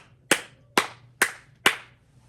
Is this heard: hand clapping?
yes